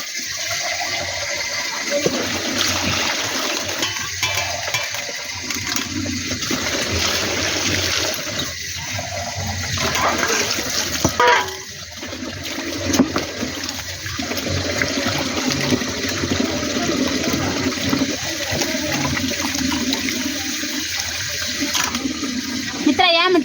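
Tap water runs steadily over raw chicken being washed in a kitchen sink, a loud continuous gush with splashing that briefly dips and resumes, while voices talk now and then over it.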